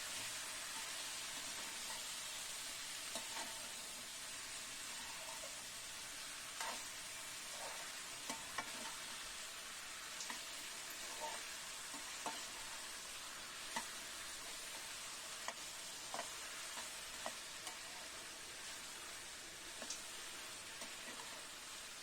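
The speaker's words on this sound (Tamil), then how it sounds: "கத்திரிக்காய் உருளைக்கிழங்கு போட்டு நல்லா வதக்கணும்." Brinjal and potato pieces sautéing in a pan, a continuous close sizzle with occasional scraping stirs and clinks of the spatula throughout.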